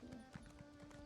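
Horse hooves clip-clop steadily while riding in Elder Scrolls Online, a soft regular gait under a low game music drone, fairly quiet and continuous.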